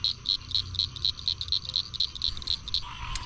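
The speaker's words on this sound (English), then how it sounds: "listening to all the frogs and everything sing" A steady, rapid pulsing chorus of frogs trills on and on at night beside a borrow pit, bright and regular, over a low rumbling background with no voices.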